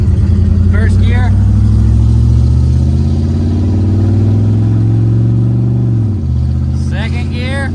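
Chevrolet Camaro Z28, a salvage car with an overheating problem, pulls away in first gear, its V8-style engine note rising loud and steady for about six seconds before dropping as the shift comes, with short bits of talk near the start and end.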